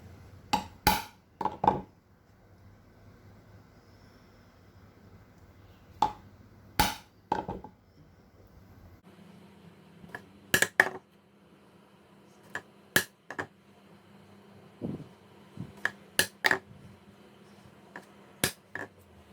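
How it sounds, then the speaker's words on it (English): A chisel is tapped along the marked lines of a dado groove in a wooden tissue-box piece, producing sharp, clicky knocks in clusters separated by pauses, close and distinct. "Start first by tapping out the lines of this groove."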